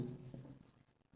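Chalk or marker scrapes briefly on a board during a Class 10 maths lesson on right-triangle sides, a faint, quick scratching burst lasting about a second with no voice.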